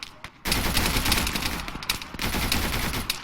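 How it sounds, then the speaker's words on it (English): Sustained automatic machine gun fire from AI riflemen in a combat video game, dense overlapping bursts rattling continuously after a brief quieter start, loud and close with no talking. "They're machine gunning."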